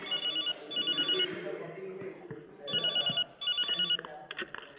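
A mobile phone ringtone chirps close by in repeated short electronic bursts, two pairs of rings separated by a pause, with a voice speaking between them.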